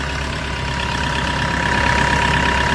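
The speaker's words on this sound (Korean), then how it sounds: "보통 디젤 엔진의 사운드와 별반 다를 것은 없게 느껴집니다" A 2005 Kia Bongo3 fifteen-seat diesel minibus idles with a steady, loud, close rumble and a constant hum, plus a slight noise from the belt side of the engine.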